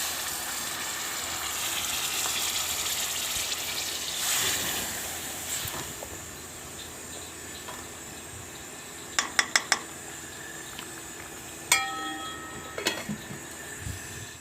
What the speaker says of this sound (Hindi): अब इसको हम पानी लगाएंगे